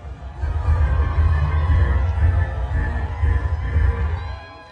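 A large outdoor crowd of students, creatives and entrepreneurs at Black Star Square in Accra, Ghana, waiting in the heat for Kamala Harris: a steady, dense murmur of many voices with a low rumbling hum, holding at an even level throughout.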